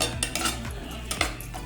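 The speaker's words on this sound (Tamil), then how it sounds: "இதெல்லாம் சேர்த்து நல்லா கிளறி விடுங்க" A metal spoon scrapes and clinks against a pan while vegetable biryani masala is stirred, quick close scraping strokes over a low background sizzle, with no voices.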